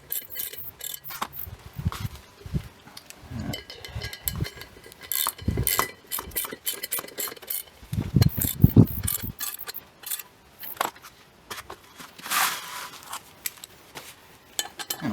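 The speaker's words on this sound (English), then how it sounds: "I've got my 1/2-inch socket to finish tightening things up now" Half-inch socket wrench tightening bolts on a Scott Bonnar 45 mower's rear roller assembly, close ratcheting clicks and metallic clinks coming in irregular bursts.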